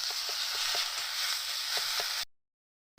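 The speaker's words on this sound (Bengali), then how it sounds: "দিয়ে দিচ্ছি একটু সর্ষে বাটা, দিয়ে একসাথে সব এবারে নেড়ে নেওয়া যাবে।" Mustard paste and spices being stirred in a hot frying pan: a steady, close sizzle with soft scraping strokes, ending in a short silence.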